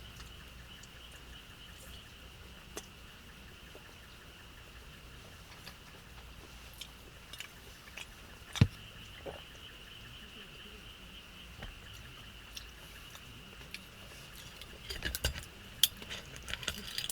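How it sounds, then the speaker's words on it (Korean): Frogs croak outside at night at a new campsite, heard from inside a Ray car set up for car camping. A faint, steady, high chorus runs throughout, with occasional small clinks and taps nearby. "밖에 개구리 소리가 엄청 들리는데"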